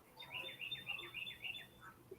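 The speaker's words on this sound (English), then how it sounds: "I heard that cardinal out your window." A cardinal sings outside a window, a run of bright, clear repeated whistled notes in quick succession, moderately distant and fairly faint, with no talking over it.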